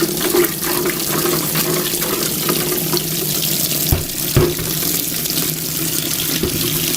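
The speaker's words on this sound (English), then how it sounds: "Give it a rinse" Tap water runs steadily while a carpet cleaner's tank is rinsed underneath, with a few sharp knocks and splashes breaking the flow.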